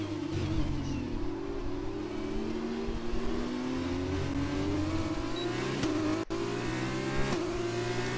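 F2 race car engine in the F1 2020 game at Bahrain, a steady droning whine with repeated rising gear-shift sweeps as the car accelerates, loud and continuous with a brief cut near the end.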